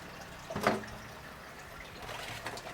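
Celery is rinsed under a cold running tap, heard as a brief splash of water followed by a faint, low trickle with no voices.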